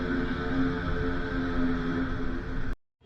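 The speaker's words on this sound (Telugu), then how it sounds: "విన్నారు కదా, కావాసాకి నింజా 650 ఎగ్జాస్ట్ అది సౌండ్ కావాలని చేసిరు" A Kawasaki Ninja 650 motorcycle with a modified exhaust drones at a steady, sustained pitch, loud and close, then cuts off abruptly near the end into near silence.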